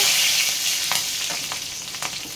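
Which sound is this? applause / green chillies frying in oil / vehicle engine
green chillies frying in oil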